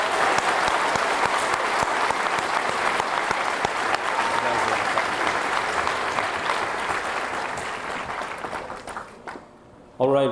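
Sustained applause at a graduation ceremony for commencement speakers, a dense steady wash of clapping from a large audience that gradually fades near the end.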